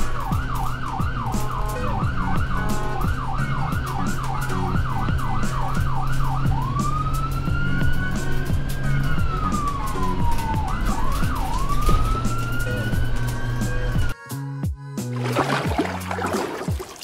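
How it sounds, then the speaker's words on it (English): An ambulance siren sounds loud and close, first in a fast rising-and-falling yelp, then in slower long wails, before changing to a harsher burst at the end. "Ambulance."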